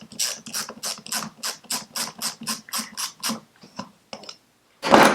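A piston ring compressor on a Citroën 2CV engine rebuild is released with a rapid series of about fifteen loud, rhythmic ratchet clicks, then a pause and a final metallic clatter.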